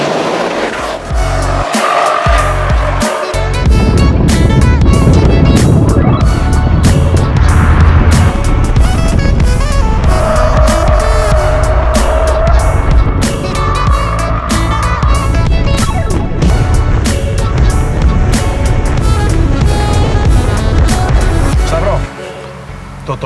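A Toyota GR Yaris, a car not yet on the market, accelerating hard, with a loud, sustained engine roar rising and shifting in pitch over about twenty seconds, close and continuous, and a voice speaking over it.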